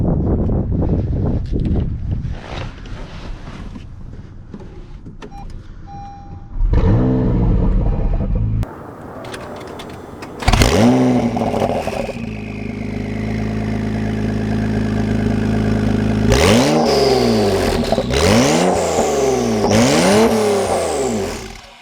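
A 2021 Nissan GT-R engine cranks and starts, settles into a rumbling idle, then several loud revs rise and fall in quick bursts with some wind noise.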